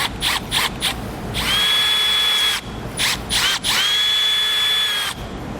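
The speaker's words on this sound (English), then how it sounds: "Make sure you don't go too fast with a drill bit like this" A power drill whirs in two long, steady bursts with a rising pitch, separated by short clicky stops and starts, close and loud, drilling a hole while installing a trailer brake controller.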